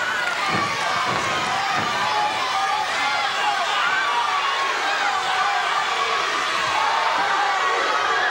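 Wrestling arena crowd at a USWA match with Jerry Lawler in the ring, a dense steady roar of cheering and chatter filling the hall, unbroken and loud throughout.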